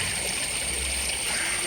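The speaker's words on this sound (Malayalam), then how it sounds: "ഇതുപോലെയാണ് കേട്ടോ വെള്ളം ഒഴുകുന്നത്" Water runs in a small stream, a steady close rushing and trickling wash that holds at an even level without a break, and no one speaks.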